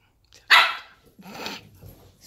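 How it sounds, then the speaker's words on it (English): Playing puppies give one sharp, loud bark, followed by softer yips and grumbling vocal sounds close by. "It's puppy talk."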